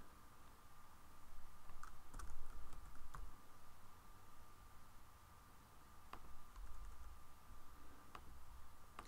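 Typing on a computer keyboard, soft close key clicks in short irregular bursts with a few sharper taps, quiet over faint background hiss.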